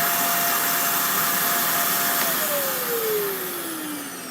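Clogged household vacuum cleaner switched on, running as a loud steady whine with a high motor tone that begins to slide down in pitch near the end, heard close with no talk.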